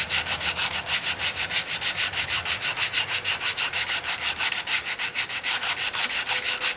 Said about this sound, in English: Just gonna work my way from 120 grit all the way up to 240 grit.